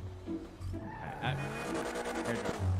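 In a GTA RP police chase, a car pulls away and skids, its engine rising under long, squealing tire screeches that build and hold near and loud, with a siren-like tone and a bump near the end.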